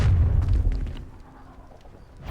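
A Confringo spell explosion in a Hogwarts video game, a single deep rumbling boom that decays over about two seconds, heavy in the low end.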